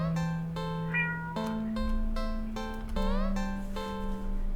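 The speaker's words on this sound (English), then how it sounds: "the cat meows almost pitifully at you." A cat in a video game meowing pitifully, several drawn-out, tonal mews in a row over a steady musical drone, fairly loud and close, with no voices.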